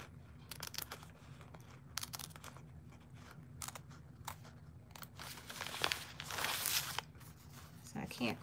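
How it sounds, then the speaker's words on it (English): Crisp, repeated snips of scissors cutting applique fabric on a machine-embroidered baby bib, irregular and close, over a low steady hum. "I make sure my scissors are smoothly gliding above the bib"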